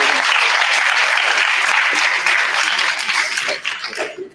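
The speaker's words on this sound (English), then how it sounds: "Another round of applause." Audience applause at a forum event fills the room as dense, steady clapping, loud and sustained for several seconds before tapering off at the end.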